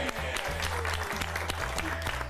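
Studio audience applause on a Spanish game show, brief steady clapping with a low musical or synthetic tone pattern running underneath.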